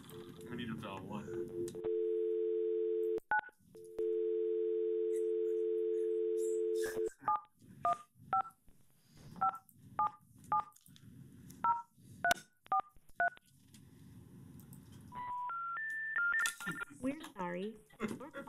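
A landline phone gives a steady dial tone, then a quick run of touch-tone key beeps in an irregular rhythm, followed by a rising three-note intercept tone, with faint room noise and people talking briefly.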